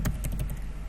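A quick burst of keystrokes on a computer keyboard, several soft, close taps in rapid succession over a faint background hum.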